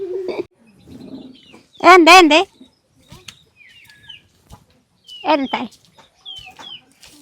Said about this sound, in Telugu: రకరకాల పిట్టలు చేరుకొని ఉంటున్నాయేమో కదా